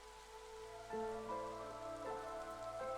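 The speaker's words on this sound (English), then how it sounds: "Like the rain that never stops." Steady rain patters softly in the video game Against the Storm, a constant quiet hiss beneath gentle tonal music.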